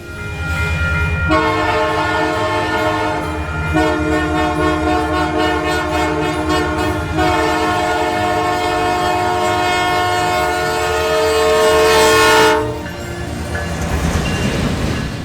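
The CPKC Holiday Train rumbles past with rhythmic wheel clatter while its horn blares in long sustained blasts, ending in a heavy steady roar.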